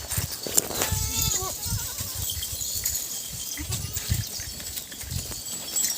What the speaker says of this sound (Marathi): इकडे बकऱ्या आता जमा झालेल्या आहे